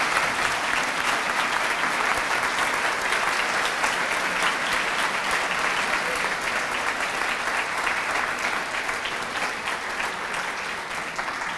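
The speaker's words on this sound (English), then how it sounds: "Let's give them a big round of applause." Continuous loud applause from a large crowd at a high school graduation ceremony, a dense, even wash of clapping that carries without a break for the whole stretch.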